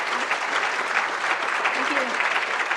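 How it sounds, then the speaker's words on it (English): Audience applause for guests at a live software launch event, a steady dense patter of clapping from a room full of people, sustained and fairly close. "I want a round of applause for our guests, please"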